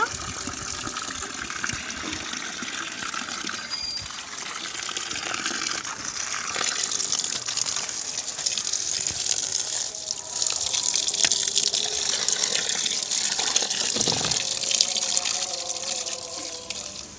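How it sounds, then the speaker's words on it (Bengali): Pumpkin leaves washed under a running tap, with a steady gushing stream of water splashing over them for the whole stretch, close and fairly loud, with brief handling noises and no talking. "এবারে এই কুমড়ো পাতাগুলোকে ভালো করে ধুয়ে নেব।"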